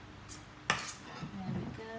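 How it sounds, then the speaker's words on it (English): A spatula clinks once against a bowl of coconut biscuit mixture, a sharp near tap followed by softer scraping and faint clatter, quiet and close with no talk. "I'm going to dip my spatula in there."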